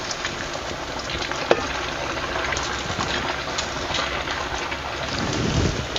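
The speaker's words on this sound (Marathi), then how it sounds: "आता आपण चांगलंसं लालसर लालसर होसपर्यंत आपल्याला हे तळून घ्यायचं" Sabudana vada deep frying in hot oil, a dense continuous sizzle and bubbling, loud and close, with a faint stir or knock partway through.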